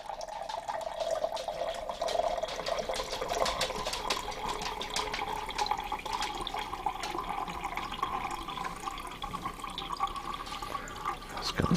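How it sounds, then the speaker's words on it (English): Water runs and trickles steadily into a container indoors, a continuous splashing stream with faint drips, fairly close and alone without talk. "Let's get some water. It's not having a pee,"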